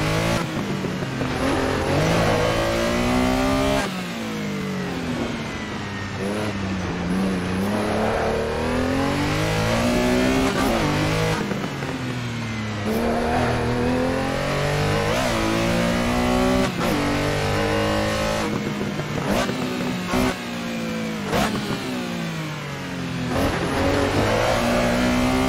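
A Porsche 911S Group 4 rally car at a rallysprint in Hondarribia, engine revving hard through repeated rising and falling gear pulls, loud and close, continuous for the whole stretch.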